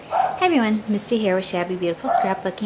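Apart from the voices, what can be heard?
dogs barking indoors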